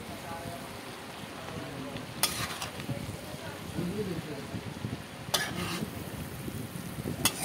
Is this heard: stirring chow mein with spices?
yes